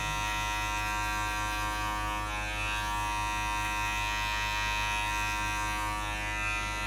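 An electric hair clipper fitted with a number 1 guard, lever half open, cuts a girl's skin fade at a barber. It gives a steady, close, unbroken buzz with no talk over it.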